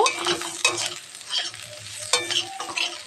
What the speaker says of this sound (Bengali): নিম পাতা আলু আর বেগুন এটা একসঙ্গে নাড়া দেব